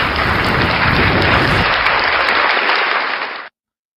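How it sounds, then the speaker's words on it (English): A loud, dense round of applause for a guest on a live breakfast show. It runs full and steady, then cuts off abruptly. "Round of applause for Bicycle!"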